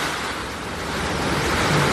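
Storm sea waves and strong wind in Virac, Catanduanes, where seawater has flooded roads: a steady, loud roar of crashing surf mixed with gusting wind buffeting the microphone, continuous without speech.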